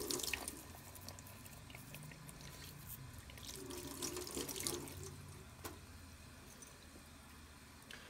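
Tap water runs steadily through disassembled airbrush gun parts, a soft continuous splashing stream with occasional drips, faint and close in a quiet room.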